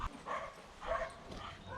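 A dog nearby gives a few soft, yipping barks in an outdoor setting during a behavioural socialisation session, the bursts coming in a loose rhythm at moderate loudness.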